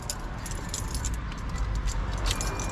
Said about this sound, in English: Grab your keys